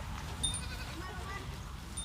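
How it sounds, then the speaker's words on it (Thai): Boer crossbred goats on a farm, mixed from three bloodlines, with a faint bleat or two rising over steady low outdoor rumble while someone talks through the whole stretch. "แพะบอลูกผสมนะครับ สายพันธุ์รวมเลย 3 สายพันธุ์นะครับ"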